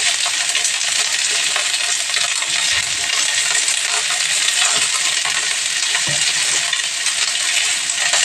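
Onions and garlic fry in hot oil for a jackfruit curry, a loud, dense, continuous sizzle heard up close with faint scraping underneath and no talk.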